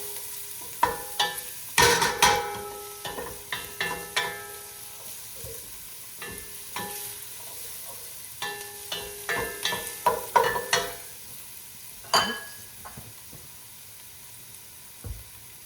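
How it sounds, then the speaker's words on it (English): Sizzling and stirring in a deep pot as corned beef soup ingredients sauté on the stove, with steady frying hiss and scattered utensil scrapes and clinks close by, no talking. "there it is, sauteing"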